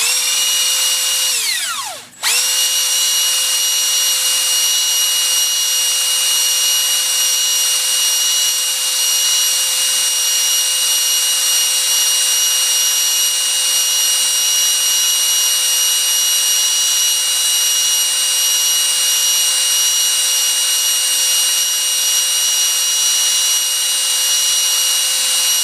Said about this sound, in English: I'm going to try taking a brake hone, shove it down, and try to get rid of the glazing that's on top.